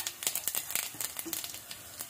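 Cumin seeds crackle and sizzle in hot oil for a tempering, a soft, close, continuous frying hiss with quick popping ticks.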